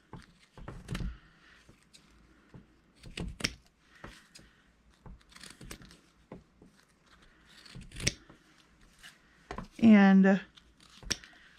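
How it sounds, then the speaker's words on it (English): Scissors snip scraps of paper into small clusters for a nature journal, several short crisp cuts scattered in bursts, close by, with a person talking softly between them. "now I'm going to just cut it into little clusters"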